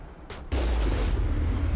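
Two gunshots ring out in the Mass Effect video game, fired at marauders: a quieter crack comes first, then a loud booming blast that keeps rumbling and echoing to the end.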